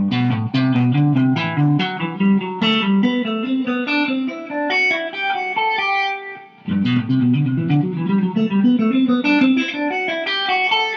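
An electric guitar is played with hybrid picking, pick and fingers plucking a continuous run of notes across the strings. The playing is close and clear, with one brief pause near the middle and no talking.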